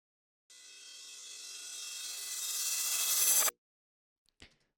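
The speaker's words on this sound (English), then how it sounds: "So now we're getting kind of a wobbling sound." Synthetic wobbling texture from a warp texture mode as grain size is swept, a smooth rising sustained tone that swells for about three seconds and cuts off abruptly, followed by a faint brief knock.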